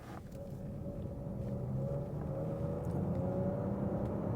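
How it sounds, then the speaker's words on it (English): A 2024 Nissan Qashqai e-Power's engine drones steadily from inside the cabin during a sport-mode launch, a low, rising hum building gradually in loudness, with road and tyre noise under it and no speech. "Hear a bit of the engine."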